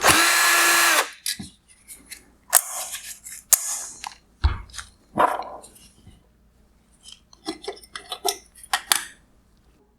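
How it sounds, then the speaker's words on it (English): A power screwdriver backs out the two Phillips head screws holding the fan of a 2018-2020 Lexus NX200t/NX300h LED headlight, in a short loud whir, followed by small plastic clicks, clinks and handling noises. "I will remove the 2 Phillips head screws holding the fan in place"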